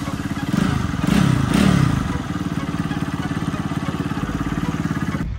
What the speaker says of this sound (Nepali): हाम्रो बाइक चाहिँ फाइनल्ली स्टार्ट भइसकेको छ